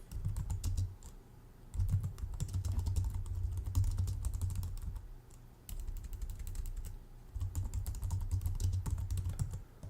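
Steady typing on a computer keyboard while notes are written, dense clattering keystrokes in bursts with brief pauses, close and alone with no talk.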